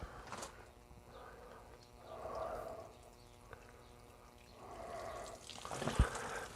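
Water poured from a can onto compost in small seedling pots, heard as two soft, quiet gushes of trickling liquid a few seconds apart, with a light knock near the end.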